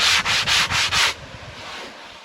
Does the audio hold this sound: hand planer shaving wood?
yes